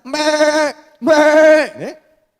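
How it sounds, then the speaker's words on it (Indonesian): A goat at feeding time bleats loudly and close by: two long, wavering cries followed by a short, rising trailing call, with no talking. "Saya datang ingin memberikan makanan, bersuaralah kambing itu."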